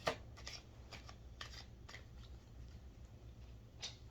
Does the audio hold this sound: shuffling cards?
yes